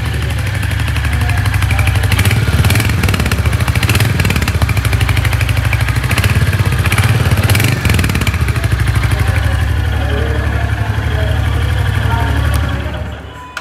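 A 2023 Royal Enfield Hunter 350 motorcycle with a 349.3 cc engine runs steadily just after a cold start, giving a loud, close, continuous idling thump with a clattery mechanical edge throughout.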